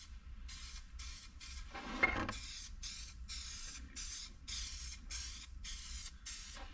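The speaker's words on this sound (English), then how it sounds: "Make sure you got your paint shaken up real well, and then we'll start with this real light coat." Short bursts of aerosol spray paint hiss in a broken rhythm as a light coat goes onto an old car door panel, one longer, louder burst among several brief ones, close and with no talking.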